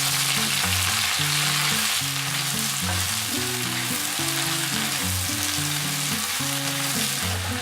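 Chinese cabbage sizzles steadily in a hot pan with salt and oyster sauce, a loud constant frying hiss with a faint musical backing throughout.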